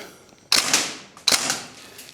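A Northeast Airsoft Mini UZI gas blowback rifle fires two sharp, separate shots about three quarters of a second apart, each a crisp clack with a short mechanical rattle, close and loud with no voices.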